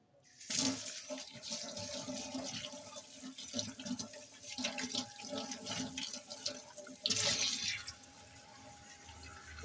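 Tap water runs steadily and splashes while a brass nilavilakku lamp, a traditional oil lamp, is rinsed clean under the faucet in a kitchen sink, with a louder gush partway through and no talk.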